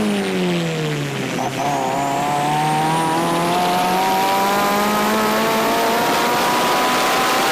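A homebuilt car's engine revving while stationary, held to a 4,000 RPM limit, a loud sustained roar that climbs and wavers steadily for several seconds with no voices.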